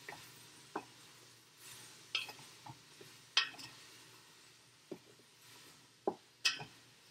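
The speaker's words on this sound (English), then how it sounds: "Let it stir." A spoon stirs cauliflower soup in a metal pot, giving soft scrapes and occasional bright clinks against the side at irregular intervals, quiet and close.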